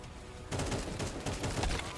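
Rapid automatic gunfire in the Counter-Strike 2 video game starts abruptly after a quiet moment and continues as a dense, loud burst of shots.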